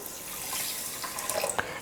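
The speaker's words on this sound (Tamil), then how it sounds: "இப்போ இதே கப்பில் 3/4 கப் அளவுக்கு தண்ணி சேர்த்துக்கிறேன்" Water pours steadily from a cup into a pan to start the sugar syrup for gram-flour Mysore pak, a soft continuous splashing hiss with a few small drips near the end.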